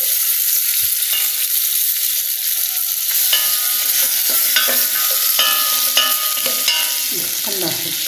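Chicken and vermicelli frying in a pan, giving a constant loud sizzle with intermittent scraping and clinks of a utensil stirring and turning the food.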